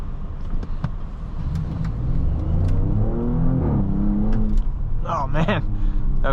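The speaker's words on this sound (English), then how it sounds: "Oh man, that acceleration." A 2021 Audi S7 accelerating, heard from inside the cabin: a deep engine drone that builds and rises in pitch, with a few faint clicks and rattles over it.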